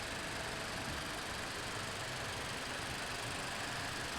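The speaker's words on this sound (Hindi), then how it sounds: "ये है इस गाड़ी का 1200 सीसी का एक इनलाइन 4 सिलेंडर इंजन, जो कि एक टर्बोचार्ज इंजन होता है।" Toyota Corolla Sport with a 1.2-litre turbocharged inline four-cylinder engine runs steadily with an even, broadband hum and no change in pace, heard fairly quietly with no talking.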